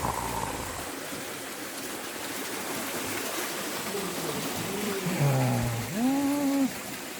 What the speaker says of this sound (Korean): 가까이서 본 청폭포